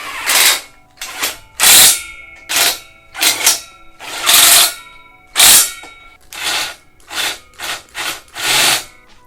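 A power screw gun drives screws into an inversion table frame in short, loud whirring bursts of about a second each, separated by brief pauses, repeating about a dozen times with no talking.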